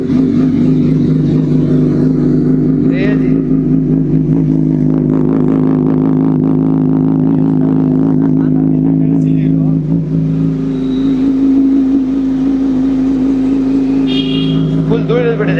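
Honda CBR motorcycle engine running with a steady, loud exhaust drone and revving throughout, accompanied by continuous talking over it.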